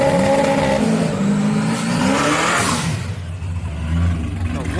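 A turbo Honda Civic drag races at Houston Raceway Park: a loud, close engine revs and accelerates with rising pitch, then the roar drops off briefly before building again.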